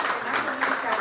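An audience claps at a conference for a man in attendance, a dense, steady patter throughout while a voice carries on over it.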